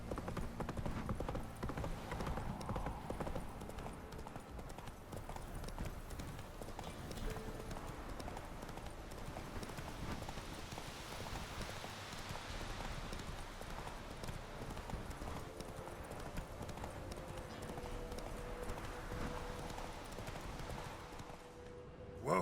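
Hooves of the horse Roach clip-clop steadily as it gallops through The Witcher 3 game world, a continuous rhythmic patter under a bed of ambient noise, with a brief snort or whinny.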